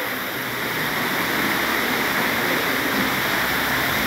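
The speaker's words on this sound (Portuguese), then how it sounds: "É rolo d'água medonho." Floodwater rushes through a town in Ceará, Brazil, after heavy rain, a loud continuous broadband roar that holds steady throughout with no talk over it.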